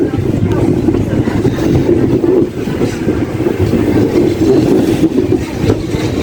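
A passenger train rolls along past fields with a continuous loud rumble and rhythmic clatter of wheels on rails, heard from inside the carriage.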